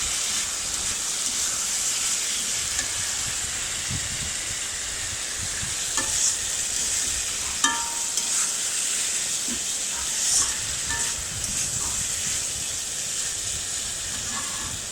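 A spice mixture for a fish head muri ghonto stir-fries in a pan, a close, continuous loud sizzle and hiss with occasional scraping of a spatula, no voices.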